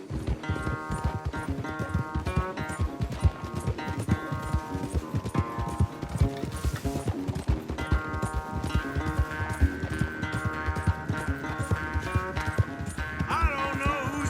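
Horses galloping in a race in the Red Dead Redemption 2 video game, rapid rhythmic hoofbeats pounding steadily and close throughout, with game music and faint voices mixed underneath.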